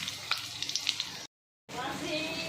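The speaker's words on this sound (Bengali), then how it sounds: "এবার কালো জিরে এক চিমটে আর তিনটে শুকনো লঙ্কা ছেড়ে দিয়ে দিচ্ছি" A pinch of nigella seeds and three dried red chillies hit hot oil in a wok, giving a steady bright sizzle with small crackles and pops, broken by a short gap of silence.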